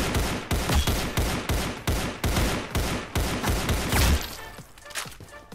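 Rapid bursts of gunfire in the Roblox game Counter Blox, a dense run of loud, evenly spaced shots for about four seconds, then thinner scattered shots as the firing tapers off.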